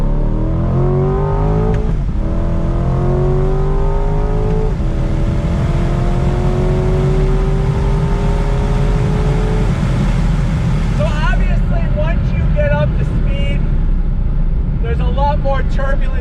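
A 2020 Ford Shelby GT500 with the roof off accelerates hard on throttle, its engine note climbing loud and close through rising revs with gear shifts, as wind buffets the open cabin and someone speaks over it.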